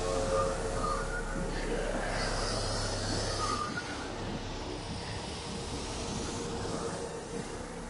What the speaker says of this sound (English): Oh, we're at the train station.